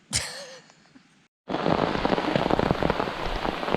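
Heavy rain pours down during a backpacking trip in a brutal rainstorm, a dense, loud hiss of drops after a short quieter start and a brief gap.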